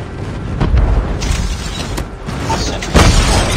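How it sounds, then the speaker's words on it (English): Airstrike explosions in Call of Duty Mobile, loud dull booms with rumbling bursts and crackling debris, several impacts close together in a dense noisy battle din. "Enemy airstrike incoming."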